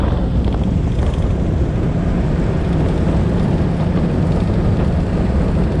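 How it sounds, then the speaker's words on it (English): A Hell's Bay flats skiff with its outboard engine jacked up runs across backwater, a steady loud engine drone mixed with heavy rushing wind buffeting throughout. "you can jack up the engine and we're basically running in what's sort of a catamaran hole"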